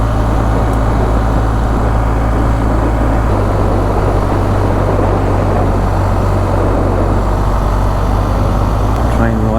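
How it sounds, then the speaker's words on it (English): A heritage train engine firing up at a station, a loud continuous low rumble and drone that holds steady throughout, with a slight shift in pitch partway through. "Sounds like the train firing up"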